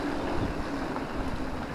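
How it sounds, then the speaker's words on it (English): Wind buffets the microphone in a steady rush, with the low wash of water and an anchored sailboat rocking beneath it in the San Juan Islands. "Not the biggest gust we've had yet."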